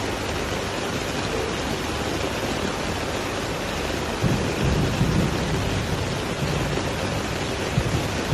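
Heavy rain pours steadily, loud and close, with low rumbles of thunder rolling in around the middle and again near the end. No voices are heard.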